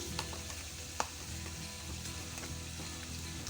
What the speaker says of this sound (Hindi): 1/2 टेबल स्पून लहसुन का पेस्ट डाल रही हूँ।